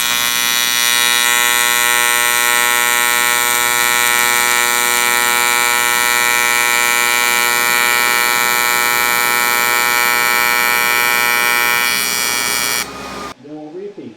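A TIG welding arc runs as a loud, steady electric buzz with dense harmonic hum, unbroken for about thirteen seconds before cutting off abruptly, followed by a brief rustle.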